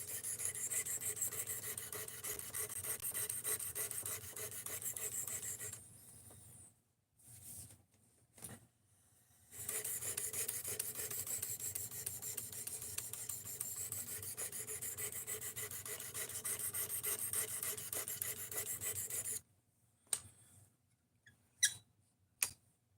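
A Craftsman blade is freehand sharpened on sharpening stones with long runs of steady close scraping strokes, broken by a pause and ending in a few isolated scrapes and taps.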